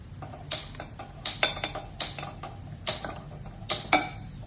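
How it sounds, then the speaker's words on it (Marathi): A gas stove being switched on, with a series of sharp mechanical clicks and ticks from the knob and igniter, about eight of them in quick irregular succession, close and distinct. "नंतर आपल्याला गॅस सुरू करायचा आहे।"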